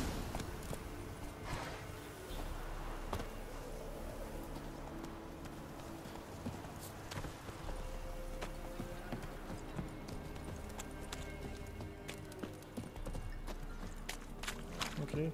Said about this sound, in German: Und schöne Pferde.